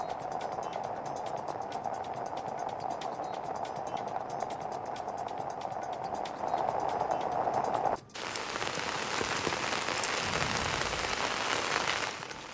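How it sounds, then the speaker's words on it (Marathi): Steady, dense monsoon rain pouring without pause amid thick fog, a constant hiss of drops on surfaces that grows a little louder and rougher toward the end. "दाट धुकं आणि पावसाची संततधार"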